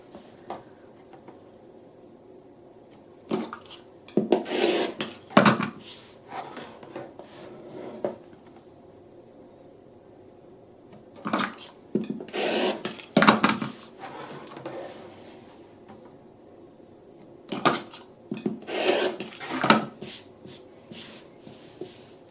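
Quilt block edges are trimmed with a Trimmer by George ruler: three clusters of close scraping, cutting and shifting sounds against fabric and ruler, separated by quiet pauses.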